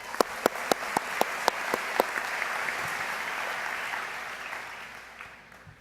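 Audience applause at an education summer institute in San Diego: a burst of separate claps grows into a broad, steady wash of clapping, then slowly thins and fades toward the end.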